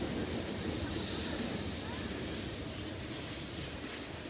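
An HO scale model unit coal train rumbles steadily past with a continuous broadband roar and hiss, no voices, sustained at an even level throughout.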